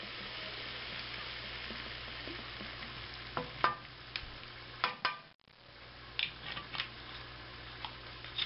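A spoon stirs ingredients through extra virgin olive oil in a pan for chili dog mac, with a steady low sizzle under repeated scraping clicks and a short break midway; no talking.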